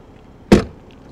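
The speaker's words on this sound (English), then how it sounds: "Door open and close sound from the outside" The door of a 2020 Toyota Supra shuts from outside the car with a single solid thump, short and close, and otherwise quiet.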